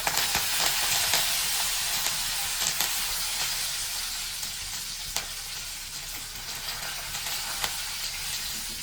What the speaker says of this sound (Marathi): तेल तापल्यानंतर आपण याच्यामध्ये जिरी आणि मोहरी घालूयात। जिरी मोहरी चांगली तडकू द्या।